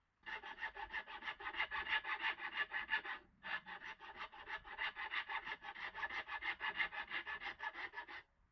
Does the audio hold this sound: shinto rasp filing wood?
yes